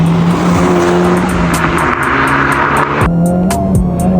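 A Honda Civic Type R with a 6-speed manual driven hard in R Plus mode, its engine roaring loud and close while revs sweep up and down through gear changes, with tire squeal mixed in.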